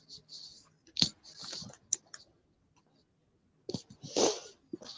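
Quiet indoor sounds of someone's sneeze-like bursts, a sharp one near the start and another about three seconds later, each with a hissy breathy burst, amid small clicks and soft mouth noises.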